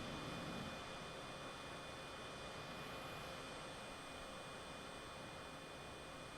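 A MiG-21bis jet in Microsoft Flight Simulator 2020 builds speed, its engine producing a steady, loud broadband roar and whine that holds constant throughout with no voices.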